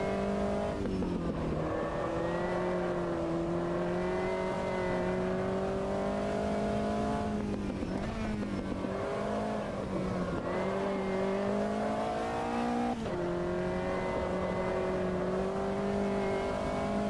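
Race car engines from the sim racing game Automobilista 2 drone loudly and steadily through a hotlap, rising and falling with gear changes and occasional shifts, without speech.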